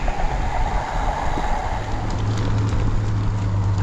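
A train passes near Edgbaston Village in Birmingham, heard as a loud, steady rumble that fills the whole stretch, with faint clicking on top.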